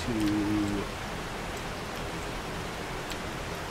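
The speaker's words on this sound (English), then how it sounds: "The rain is really loud." Steady, loud rain hiss fills the scene in the survival video game 7 Days to Die, a constant wash of noise after a short tone at the start, with no talk.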